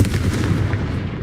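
A Confringo blasting spell in Hogwarts Legacy lets off a loud, booming explosion with a deep rumble that quickly fades.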